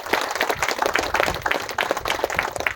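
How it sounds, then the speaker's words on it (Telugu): Audience clapping at a pyramid meditation ashram foundation-stone and ground-breaking ceremony, a steady patter of many hands that stays fairly even for the whole stretch and is heard on its own. "క్లాప్స్ కొద్దామండి."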